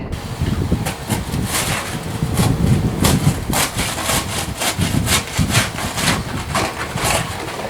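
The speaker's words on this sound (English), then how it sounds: "I'm sawing these long boards into smaller pieces" Rhythmic rasping strokes of a hand saw cutting long wooden boards into smaller pieces, repeated steadily and close by, with no talking.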